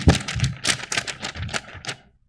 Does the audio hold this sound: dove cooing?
no